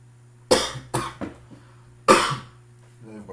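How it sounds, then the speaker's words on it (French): A man coughs several times near the microphone in a quiet room, two sharp bursts followed by smaller ones, with a low electrical hum underneath and a brief murmur of his voice at the end. "la toux là qui me dérange"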